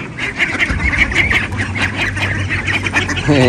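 A flock of ducks quacking noisily and continuously up close, overlapping calls forming a busy, raucous chatter.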